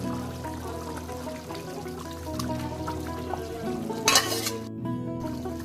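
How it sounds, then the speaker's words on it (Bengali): Fried potatoes dropped into simmering mutton curry in a kadai, giving a steady bubbling sizzle with soft stirring and one brief louder splash of frying near the end. "এবার আমি দেব ভেজে রাখা আলুগুলো।"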